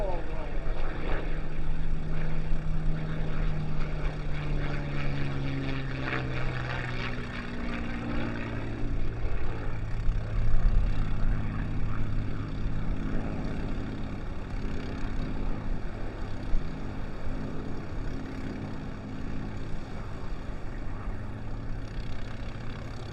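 A propeller fighter aircraft rolls through a barrel roll at the Fort Wayne air show, its engine droning loud and close, the pitch sweeping as it passes, while an announcer talks over it.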